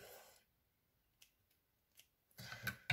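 A few quick, crisp snips of scissors, close and quiet, spaced apart over near silence, ending with a short burst of rustling.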